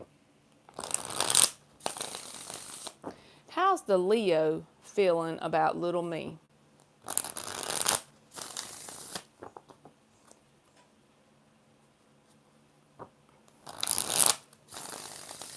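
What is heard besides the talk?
shuffling tarot cards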